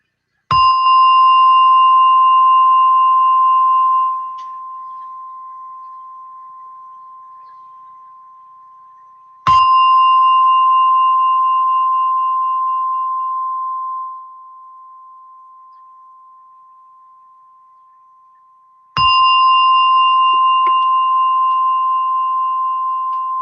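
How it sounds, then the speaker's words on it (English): A meditation gong strikes three times at even intervals of about nine seconds, each a loud bright ring with a sharp attack and a long, slowly fading sustain. "as you hear the sound of a gong, sitting comfortably and meditate"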